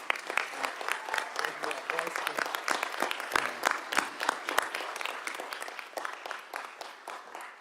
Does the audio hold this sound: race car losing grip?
no